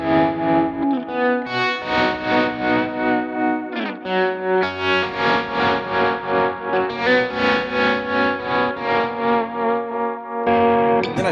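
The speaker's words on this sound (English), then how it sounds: "I've got that trem still on it" Electric guitar through a Kemper amp rig with a tremolo effect, sustained chords pulsing in an even, fast wobbling rhythm, with chorus-like shimmer and a little echo, loud and without any voice.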